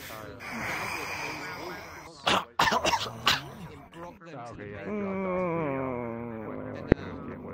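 Someone gives a few harsh, throaty coughs in a tight cluster, close and loud, set between stretches of talking.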